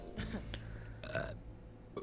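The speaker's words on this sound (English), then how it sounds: "I love the burps." A Sim in The Sims 4 burps with a foodie trait set; two or three short, gurgly belches spread over about two seconds, fairly close and clear with game ambience underneath.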